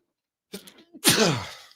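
A single sneeze: a soft intake of breath followed by a sharp, loud burst that trails off, close and alone.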